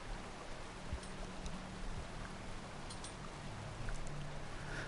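Rain in the video game Rain World, an even, steady hiss of falling rain with scattered faint drips, with a low rumble underneath and no voices.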